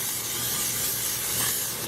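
A steady aerosol hiss of cooking spray coating a pan, held continuously for about two seconds, close and fairly loud, with no talking.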